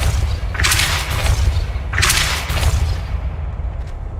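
Two heavy magical blasts from the Depulso spell in Hogwarts Legacy, each a loud whooshing burst with a booming low thump, spaced about a second and a half apart, then fading.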